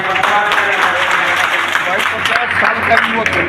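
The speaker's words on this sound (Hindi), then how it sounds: "भाई दिनेश गौड़ जी को जोरदार तालियों के साथ" Crowd at a political party meeting in India claps loudly, with voices and chatter mixed into the busy applause throughout.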